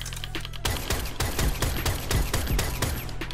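Latron Prime semi-automatic rifle in the video game Warframe fires a rapid, evenly spaced string of about ten loud, sharp shots, each a punchy crack with a low thump, close and alone.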